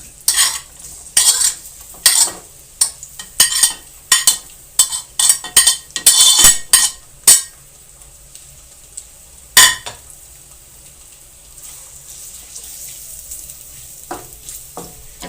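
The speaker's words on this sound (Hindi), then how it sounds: "तो ये हम तेल 2 बड़े चम्मच भर के डाले हुए हैं, इसमें हम प्याज को पहले फ्राई करेंगे।" Onions go into two big spoons of hot oil in a pan for a mutton paya dish, with a burst of sharp clinks and stirring scrapes early on. The sizzling then settles into a faint, steady fry with no talk.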